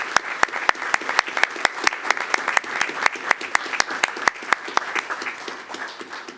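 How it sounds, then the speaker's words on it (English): A school board meeting audience applauds a group of AP scholars from Weslaco East and Weslaco High School, with steady, crisp claps from a modest crowd in a hall, sustained at moderate loudness with a few sharp individual claps standing out. "How about we give them a round of applause?"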